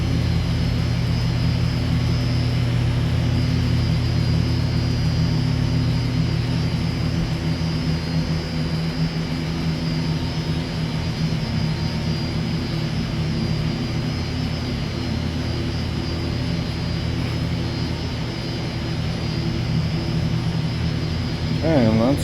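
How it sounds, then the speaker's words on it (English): Pump room machinery at a sludge plant produces a loud, steady mechanical drone with a constant whine, filling the space without pause. "that's the pump room"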